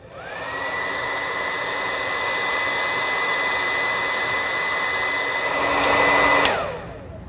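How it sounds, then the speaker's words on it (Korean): A hair dryer blows at a constant high whine for several seconds, drying a chemistry lab kit, then clicks off and its motor winds down. "드라이기로 5분에서 10분 정도 말리면 위에가 녹은 것을 확인할 수 있습니다"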